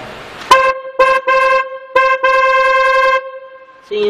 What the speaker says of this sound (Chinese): 我们现在是同时安装两个喇叭来听一下声音。